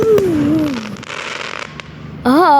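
Fireworks bang and crackle over Saltford, loud and close, while a voice whoops and imitates the crowd's reactions throughout.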